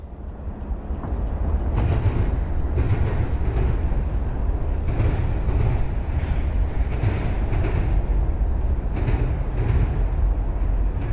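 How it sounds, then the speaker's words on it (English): A westbound Norfolk Southern freight train rolls past at a distance, a steady low rumble with a faint rhythmic clatter of wheels over rail joints, building over the first seconds and holding throughout. "A westbound Norfolk Southern was lined up when I arrived."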